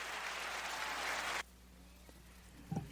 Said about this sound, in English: So now we're clapping ourselves in.